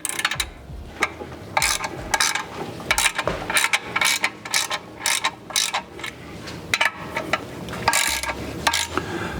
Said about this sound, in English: drawing all these bolts down evenly